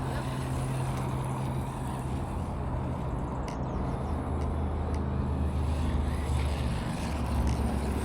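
An Arrma Typhon Grom RC car running outdoors, making a continuous rough whir and rushing noise at moderate loudness, with a few brief clicks and knocks.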